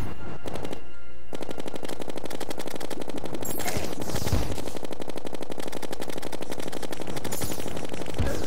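Rapid, sustained gunfire rattles from guns shooting bullets in the video game Terraria, a dense loud stream of shots with a short break early on, no talking over it.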